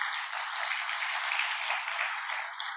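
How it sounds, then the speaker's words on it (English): Dense, steady applause from a large audience at a youth summit conference hall, sustained evenly for a few seconds without a break and fading slightly at the end. "Then give applause for East Kalimantan."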